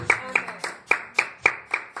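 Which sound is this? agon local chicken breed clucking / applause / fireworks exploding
applause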